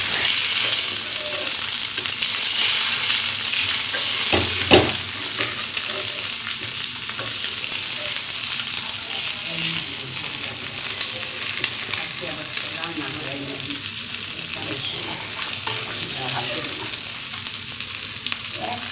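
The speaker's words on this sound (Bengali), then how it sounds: "আমি ডিমের অমলেট বানাবো বলে বসিয়ে দিয়েছি একটা ডিমের অমলেট করে নেব" An egg omelette frying in a pan gives a loud, dense, continuous sizzle that holds steady throughout, with a brief knock partway in.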